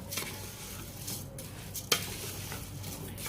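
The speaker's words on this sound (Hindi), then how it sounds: "अब चावल डालने के बाद एक दफ़ा इसको अच्छी तरह से दोबारा मिक्स कर दें।" Rice being stirred and mixed in a cooking pot, soft scraping and shuffling of grains with a light sizzle and one sharper spoon knock against the metal, near and steady with no voices.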